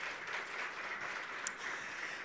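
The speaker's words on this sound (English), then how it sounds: "you can just give her a round of applause for that" An audience at a green hydrogen conference in Namibia claps in a steady, moderately distant round of applause that fills the hall without pause.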